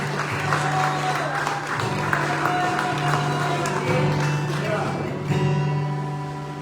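A church congregation claps in worship, a sustained patter of many hands over a steady musical tone and voices.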